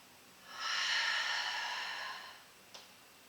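During a lower-back pain exercise, a single long, breathy exhale sounds close and fairly soft, swelling then tapering off, followed by a tiny click.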